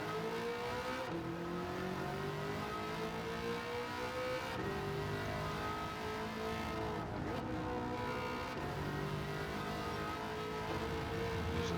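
Corvette ZR1 C6 engine in Gran Turismo 7 racing on the Sardegna road course, revving hard through repeated upshifts and rising pitch sweeps, a continuous sustained roar with no talk.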